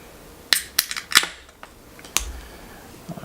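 Can of Claimstake Brewing Pavlo double IPA, a New England hazy beer, being opened: a few sharp metallic clicks and snaps, then a single crisp pop of the tab with a brief hiss, close and clear in a quiet room.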